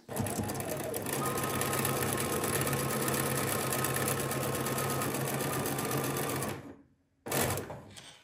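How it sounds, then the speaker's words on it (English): A sewing machine stitches a paper-pieced quilt block steadily at close range for several seconds with a rapid mechanical whir, stops briefly, then starts again. "and then off to the sewing machine"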